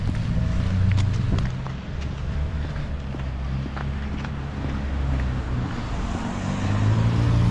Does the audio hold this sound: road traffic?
yes